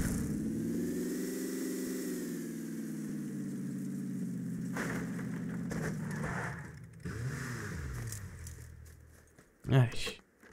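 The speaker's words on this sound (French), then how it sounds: "Bon, on a trouvé un véhicule." Car engine in PUBG, a steady mid-pitched drone with rising and falling revs that holds for most of the stretch, dips briefly, then ends in a loud knock near the close.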